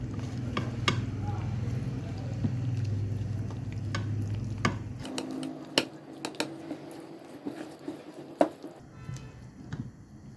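Beef being mixed by hand with vinegar and spices for beef pakora, wet squishing and stirring with scattered clicks and taps, steady for a few seconds and then sparser and drier.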